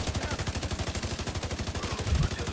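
Rapid automatic gunfire in the video game The Division 2, a dense, rhythmic burst of shots that repeats steadily, loud and close, with a heavier impact near the end.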